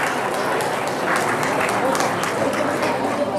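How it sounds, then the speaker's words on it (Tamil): An audience applauds at a Tamil acting event, a dense, steady wash of clapping that holds loud and unbroken throughout. "இன்னொரு கரகோஷம் கொடுத்துடலாமா?"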